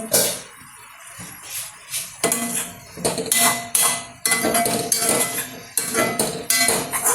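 Metal cooking pot lid lifted off a pot of cheera and chembu thoran cooking with rock salt, giving sharp metallic clanks and clinks in several bursts, close and fairly loud.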